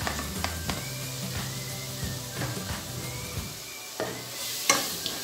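Chopped tomato and a little red bell pepper sautéing in a pan, a steady close sizzle with repeated spatula scrapes and taps, no voices.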